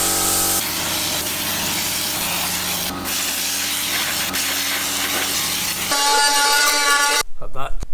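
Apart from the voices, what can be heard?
sandblaster gun removing underseal from Mitsubishi Evo 8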